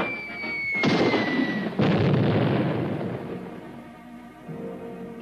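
Cartoon gunshot from a Ruff and Reddy animated show: two loud broadband bangs about a second apart, the second trailing into a long booming decay with a faint whistle before the first.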